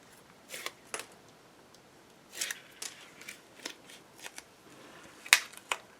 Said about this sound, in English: So I'm going to remove my tape backing.